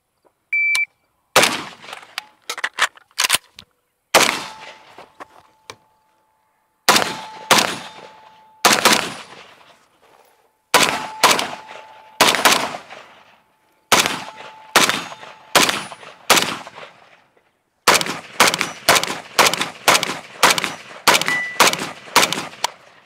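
A Krebs Custom Mini Beryl AK rifle fires loud, close shots in fast strings of rapid semi-automatic shots, separated by short pauses for reloading.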